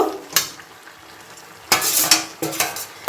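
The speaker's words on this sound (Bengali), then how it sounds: "বাঁধাকপির সঙ্গে মাছের মাথাটাও কিন্তু আমি দিয়ে দিলাম। এবার কিন্তু সবকিছু একসঙ্গে সুন্দর করে মিশিয়ে নেব।" A fried fish head and shredded cabbage stirred together in a frying pan, a spatula scraping and clattering in repeated strokes over a soft steady sizzle, close and loud.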